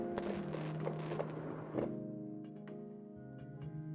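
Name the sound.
fireworks sound effects in a VTuber beach stream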